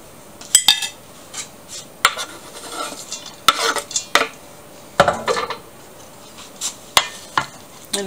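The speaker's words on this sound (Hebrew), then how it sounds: "אני מערבבת את הכל." Utensils stirring potato salad with parsley and dill in a bowl, giving irregular clinks and scrapes against the bowl with soft wet squelching between them, close and clear with no talking.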